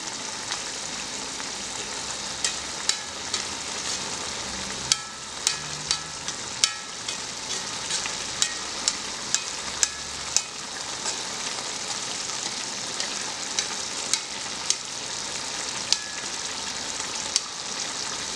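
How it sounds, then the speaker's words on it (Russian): Plov boiling vigorously in a pot, a steady close bubbling sizzle with repeated sharp scrapes and clacks of a utensil stirring and pushing the rice and meat toward the middle, no talking. "С краев очень так активно кипит, поэтому я убираю это все в середину."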